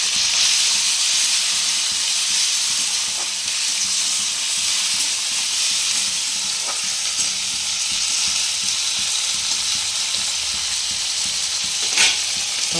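Chopped onions fried until red sizzle in a pan as tomatoes go in while making aloo fulkopi, a potato and cauliflower curry. A steady, loud hiss carries throughout with a few faint clinks, and no one speaks.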